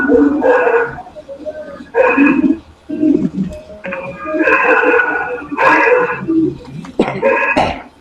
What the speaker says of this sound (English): And then the dogs react.